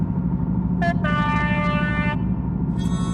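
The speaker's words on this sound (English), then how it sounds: "That was our guard's whistle." A shrill, steady railway guard's whistle blast, one brief toot followed by a longer sustained note, sounds over a loud rumbling background of machinery.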